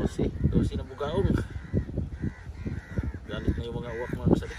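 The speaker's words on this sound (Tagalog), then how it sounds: "galit na yung mga uwak dahil wala daw silang party." Crows cawing at night, several harsh calls mixed under near, continuous talking from people nearby.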